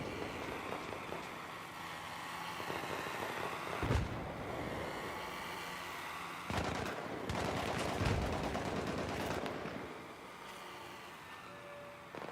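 Distant bursts of enemy machine gun fire in the Battlefield 3 war shooter on PS3, rattling in several volleys against a constant engine and vehicle rumble, fairly faint overall.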